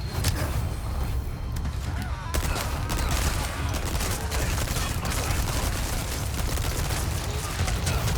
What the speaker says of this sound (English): I do have an SMG. Let's, use that right now.